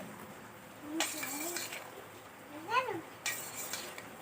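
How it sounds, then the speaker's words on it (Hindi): A spoon stirs vegetable curry of ridge gourd and chana in a pan, giving a few scraping clinks and short rattling bursts against the metal, with a voice speaking softly underneath. "जब तक इसे चम्मच की सहायता से हिलाकर मिक्स करके"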